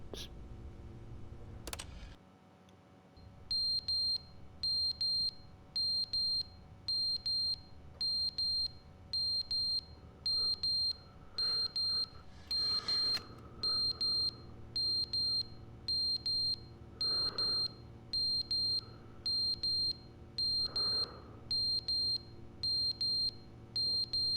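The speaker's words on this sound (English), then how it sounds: "the silence is broken with the foul sound of constant ringing" Alarm in The Stanley Parable video game: a high electronic beeping that repeats in regular pulses for about twenty seconds over a low hum, with a few faint clicks and rustles.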